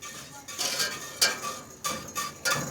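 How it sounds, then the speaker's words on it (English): Butter is whisked into a pot with a few bursts of metallic whisk scraping and clicking against the pot, close and fairly quiet. "we're just gonna whisk that butter in"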